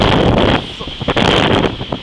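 Strong storm wind during a summer thunderstorm in Vittorio Veneto buffets the microphone in loud, broadband gusts that swell and ease, with a brief lull partway through.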